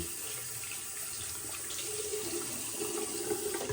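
Water runs steadily from a tap while shaving soap is prepared for a Yaqi Cerberus razor, a continuous close splashing stream with no talk.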